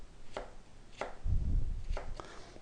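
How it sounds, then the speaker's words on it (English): A knife slices a potato into thin slices on a cutting board: about four crisp, separate cuts land in an uneven rhythm with a duller thump of board contact, close and clear, with no talking. "then you're just going to cut small, about 1/8 to 1/4 inch slices"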